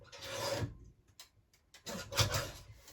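Scrapbooking paper being trimmed for a Christmas paper-bag junk journal makes two close, dry rasping cuts separated by a short pause, soft and near with no talking.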